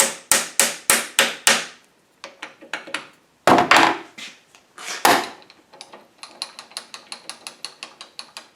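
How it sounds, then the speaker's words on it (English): A piece of brass tapping a dead center into place, a run of sharp close metallic knocks in quick bursts, some clusters fast and some spaced, with no talk. "A piece of brass, just tap it in."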